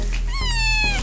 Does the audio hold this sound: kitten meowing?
yes